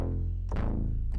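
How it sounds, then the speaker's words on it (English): Synth bass for an EDM drop, deep sustained bass notes in a simple rhythm with a sharp new attack at each change, loud and alone. "The sound that I'm gonna use for bass sounds like this."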